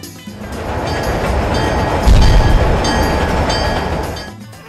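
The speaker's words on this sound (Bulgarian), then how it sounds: "Дай да го босне влак и да ново почнем." A train rumbles past on the rails at close range, a loud sustained roar that swells and peaks mid-pass before easing off, with no talking over it.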